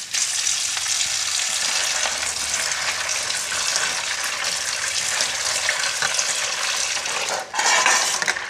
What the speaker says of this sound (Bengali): দেখো এখানে কাজুগুলো এই থালাটায় রাখলাম, একসাথে মিক্স করে এবার ধুবো।